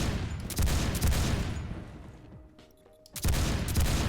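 Rapid bursts of MAC-10 submachine-gun fire in the shooter game Phantom Forces, two loud sustained volleys of fast shots split by a brief quieter gap with a small mechanical clatter.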